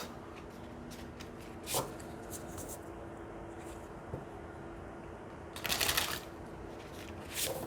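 A deck of oracle cards being shuffled in short bursts of riffling and flicking against a quiet room background, with a longer louder burst near the end.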